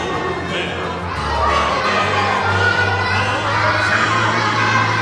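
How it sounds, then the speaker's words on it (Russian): Inside a Japanese train station, a crowd of children shouts and cheers at close range, their high, excited voices overlapping continuously in a loud, echoing hall. "Сразу слышно детишек."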